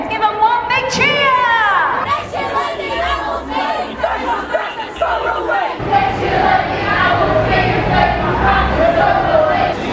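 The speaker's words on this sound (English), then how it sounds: "mums and dads, girls and boys, let's give them one big cheer!" Spectators at the Brisbane Christmas parade cheer and shout together in a loud, close burst of mixed voices and chatter that carries on for several seconds.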